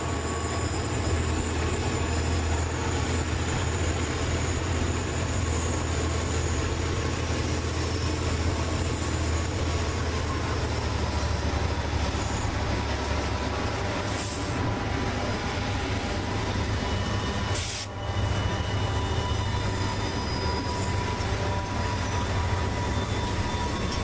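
A train rolls steadily across a 210-foot-long, 50-foot-tall railway trestle, a continuous heavy rumble with low droning and rattling wheels, close and loud throughout.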